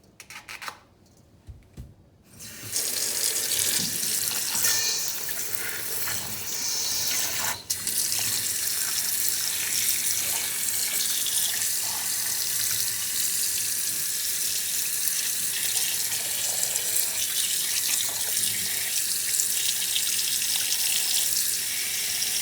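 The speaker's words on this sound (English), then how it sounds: "Now I'm going to wash the feet twice. The first time with some salt." Tap water gushes steadily into a sink while chicken feet are washed with salt, a loud continuous close rush after a brief quieter start, with faint handling sounds underneath.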